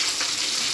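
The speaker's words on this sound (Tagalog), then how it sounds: "Kumukulo na siya." Bulalo beef soup boiling in a pot, a steady close bubbling hiss with no pauses and no voices.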